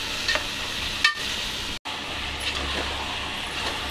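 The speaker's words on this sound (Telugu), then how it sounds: "ఆనియన్స్ అయితే మగ్గుతున్నాయండి" Chopped onions softening in a hot pan for a chicken curry, giving a steady, close sizzle and hiss with a few faint clinks of stirring and one brief dropout in the middle.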